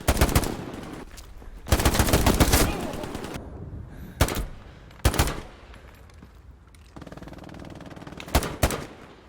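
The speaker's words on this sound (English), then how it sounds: "For the STG, there seems to be a new sound when you're shooting inside a building." Bursts of STG assault rifle fire inside a building in Hell Let Loose, loud and close with a boomy, enclosed echo, alternating long sprays and short volleys with brief pauses between.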